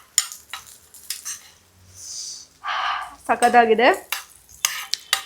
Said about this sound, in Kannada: ಸೊ ಇವಾಗ ಡ್ರೈ ಫ್ರೂಟ್ಸ್ನ ತುಪ್ಪದಲ್ಲಿ ಹುರಿದು ಹಾಕ್ತಾಯಿದ್ದೀನಿ